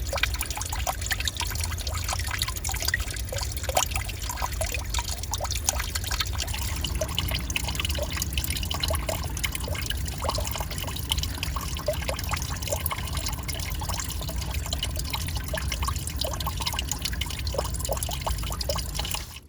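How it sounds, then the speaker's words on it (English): Natural spring water trickles and bubbles steadily out of two or three holes in the ground, a continuous close, fairly loud babbling with no voices. "the main source of this water coming through here is coming out of 2 or 3 holes right here in the ground"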